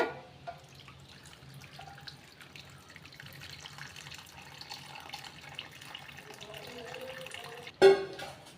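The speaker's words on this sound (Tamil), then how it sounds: "சர்க்கரை கரைசல் எடுத்து வச்சோம்னா இதை இப்போ ஃபில்டர் பண்ணி ஊற்றிக்கோங்க" Filtered sugar syrup is poured into sweet pongal, a faint, steady trickle of liquid that ends in a short, louder splash near the close.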